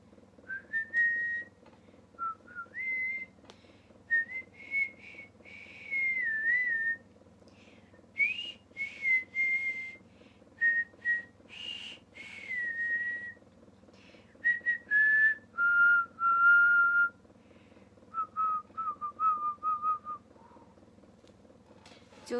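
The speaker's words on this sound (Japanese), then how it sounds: "上手でしょう、口笛。" A woman whistles a melodic tune of many short and held notes, clear and close, during a live stream, with no talking over it.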